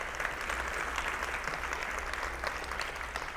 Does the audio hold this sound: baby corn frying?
no